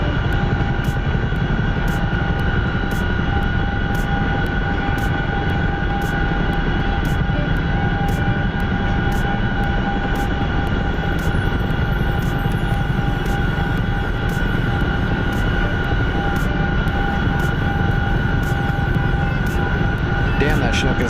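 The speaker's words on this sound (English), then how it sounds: "Damn, that Chinook is loud." Loud, constant Chinook helicopter engine drone in the flight simulator DCS, with a heavy low rumble and steady whine, a faint rhythmic ticking running through it, continuous and close.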